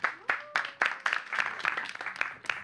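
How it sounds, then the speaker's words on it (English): Applause from a small classroom group of students after a maths answer, a dozen or so separate sharp claps spaced irregularly rather than a dense roll, close and fairly quiet. "Give him a round of applause."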